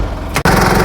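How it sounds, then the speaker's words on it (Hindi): Mitsubishi Montero 2012 with a DID direct-injection common rail diesel engine running, a loud, steady close-up drone with one very brief dip partway through, no talk. "So guys this is the DID engine, direct injection common rail engine है ये।"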